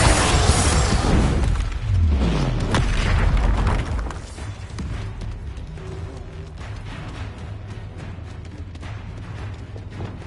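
A Confringo blasting spell explodes in the Hogwarts video game: a loud burst opens with crackling debris and a falling whoosh, then fades after a few seconds into a low rumble and faint ambient hum.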